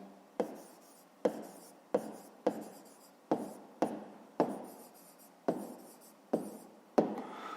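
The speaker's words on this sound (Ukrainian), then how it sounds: "Ну а зараз записуємо відповідь." A pen writes out a fifth-grade math answer on paper in quick, sharp strokes, about a dozen scratchy taps and scribbles at a brisk, uneven rhythm, close and fairly quiet with no talking.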